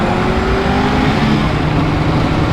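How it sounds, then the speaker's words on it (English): Opel Speedster Turbo accelerating hard from around 4,000 rpm as the turbo kicks in, a loud, close engine roar with rising harmonic tones held steadily across the short stretch. "And if I step on the gas now"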